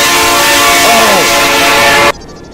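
A train arrives in the Roblox game Evade, its horn blaring very loud and sustained over a dense roar for about two seconds before stopping abruptly, leaving a quieter rumble.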